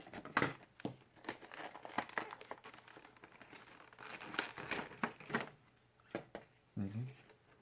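Crinkling and rustling of HP G100 gaming mouse packaging being opened by hand, an inner case sliding out of an outer box, with close scraping and crumpling bursts and a brief voice near the end.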